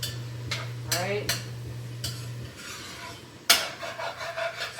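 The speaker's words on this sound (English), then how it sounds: "Scrape the bottom of the pot." A spoon scrapes the bottom of a pot while making Cajun sticky chicken, several separate scrapes close by over a low steady hum. One stronger scrape comes near the end.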